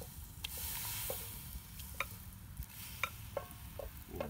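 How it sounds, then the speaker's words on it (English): Onions for French onion soup cooking in a pot, giving a soft steady sizzle with a few light clicks and stirring taps, close but quiet, with no voices. "put the onions in."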